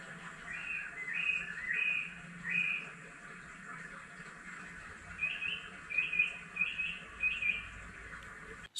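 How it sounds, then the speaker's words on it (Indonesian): Short repeated bird chirps in two bursts, moderately distant, over a quiet outdoor background hum at a lakeside campsite in Ranca Upas, Indonesia, in the early evening. "sambil dengar suara kicauan burung dari bipetnya"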